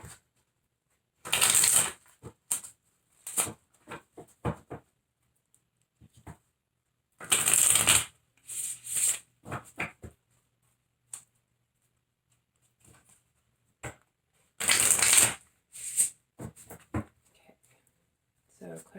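Tarot cards are shuffled by hand in three brisk, close riffling bursts, separated by softer taps and handling of the deck.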